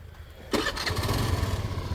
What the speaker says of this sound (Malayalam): ഇതാണ് സ്റ്റാർട്ടിങ്ങിൻ്റെ ശബ്ദം